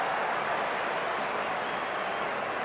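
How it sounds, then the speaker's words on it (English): A cricket stadium crowd at a tense one-day international in Sydney roars and applauds, a dense, steady wash of cheering and clapping that fills the whole moment. "Have to listen to the noise of that crowd."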